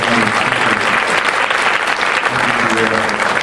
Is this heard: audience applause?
yes